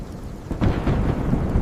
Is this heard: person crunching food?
no